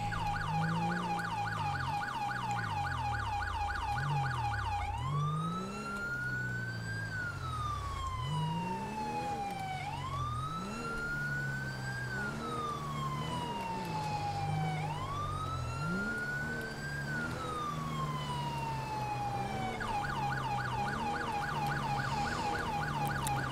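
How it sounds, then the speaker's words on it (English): A police siren in GTA5 with the LSPDFR mod wails loudly and continuously, cycling through rapid yelp patterns and slow rising-and-falling sweeps over a vehicle's engine rumble. "I try to change up the siren every now and then."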